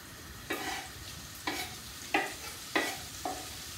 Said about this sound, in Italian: lo mettiamo dentro e lo facciamo girare un po'.